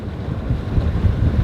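Steady wind buffeting a sailboat on a blustery day at sea, a low rumbling roar with gusty swells, close and loud with no voices.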